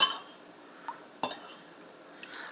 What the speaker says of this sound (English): I'm just going to combine those and use a fork to basically mix it up.